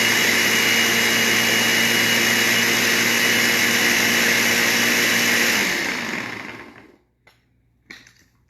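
A kitchen blender mixing ingredients for Golden Oreo strawberry cheesecake bars runs with a loud, close, steady whir, then winds down and stops near six seconds, followed by near silence and a brief clunk.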